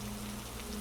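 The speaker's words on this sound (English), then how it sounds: "The rain was the percussion, a soft," Steady soft rain falls in an even, unbroken shushing hiss with no voices and no distinct drops.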